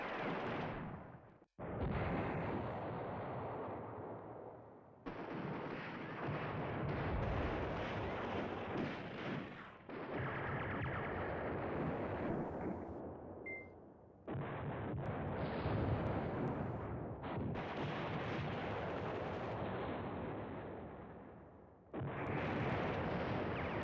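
Artillery bombardment in the wargame Command Ops 2, with French and German tanks clashing at Hannut: long rolling blasts of shellfire in repeated waves, loud and continuous with brief gaps between barrages.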